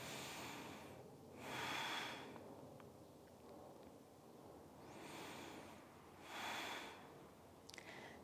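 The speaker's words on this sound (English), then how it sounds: "Two more belly breaths here." Slow deep belly breathing during a yoga stretch: several soft, drawn-out inhales and exhales close to the microphone, evenly spaced, in an otherwise quiet room.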